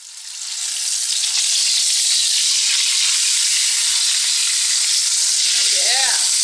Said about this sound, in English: Oh yeah, hear that sizzle?